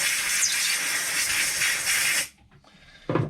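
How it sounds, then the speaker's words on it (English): Compressed air hisses in a loud steady blast through a rusty lawnmower carburettor bowl for about two seconds, cuts off, then a short second burst follows, with no talk. "Bit of a blowout with a compressor."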